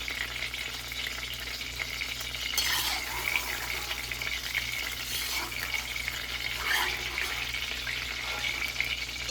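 Eggplant frying in oil, with a continuous soft sizzle and occasional stirring scrapes and clinks of a utensil at close range.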